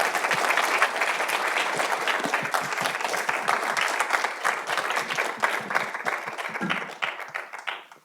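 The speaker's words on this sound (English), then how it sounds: "I would request the audience to give a round of applause to our esteemed speaker" A corporate-talk audience at Intel gives a speaker a sustained round of applause, a dense mass of clapping lasting about seven seconds before thinning out near the end.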